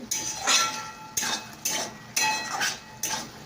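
Cumin stirred in water in a pan, a metal utensil scraping and clinking against the pan in repeated strokes, several bursts spaced about half a second apart, close and fairly quiet with no talking.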